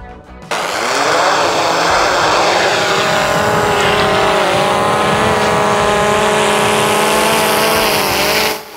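A Skydio 2 drone flying back to its launch point on return-to-home for a case landing, a loud, steady propeller whine and buzz that holds constantly for several seconds before cutting off.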